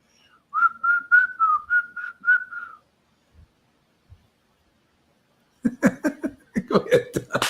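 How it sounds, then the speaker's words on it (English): A person whistles a bouncy tune of Dixie in clear, evenly spaced notes, then falls silent before a burst of laughter and chuckling follows. "He starts whistling Dixie."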